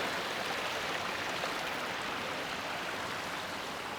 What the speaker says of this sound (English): got a nice waterfall over here.